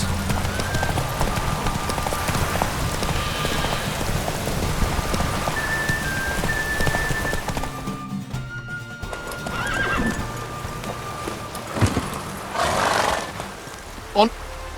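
Horse galloping through rain in The Witcher 3, with steady clip-clop hoofbeats, a neigh and rain patter all around, and game voices talking over it.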